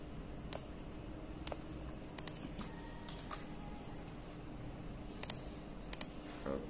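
Computer keyboard keys click in a sparse, irregular run of separate presses, some quick doubles, close and clear over a quiet room hum, with no talking.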